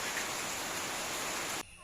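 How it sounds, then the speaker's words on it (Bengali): Heavy rain pours down outdoors in a steady, loud wash of dense drops that cuts off suddenly near the end. "প্রচণ্ড বৃষ্টি শুরু হয়ে গেছে"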